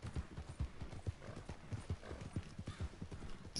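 A horse wearing a Nacogdoches saddle with hooded stirrups in Red Dead Online trots with steady, close clip-clop hoofbeats in an even rhythm, alone and fairly quiet.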